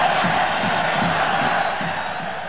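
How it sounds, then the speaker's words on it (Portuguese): A stadium crowd at a 1984 Brazilian league match between Santos and Palmeiras roars as the team walks onto the pitch, a dense, sustained wall of cheering and shouting from massed fans. "E foi recebido pela torcida cheia de festa."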